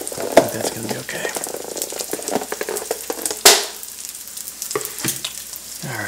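Bacon sizzles and crackles in a pan during Southern-style breakfast burrito cooking, with a steady frying hiss, occasional utensil clinks and one sharp scrape partway through.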